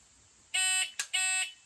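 A shot timer sounds two sharp, loud electronic beeps, each about a third of a second, separated by a brief click during a dry-fire shooting drill.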